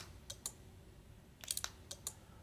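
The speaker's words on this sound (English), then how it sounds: "you can listen the clicking of the relay" A relay inside a car keyless entry unit, worked by a remote control, ticks out faint, sharp clicks: a pair near the start, a quick cluster in the middle, then two more, all very quiet against a low background hum.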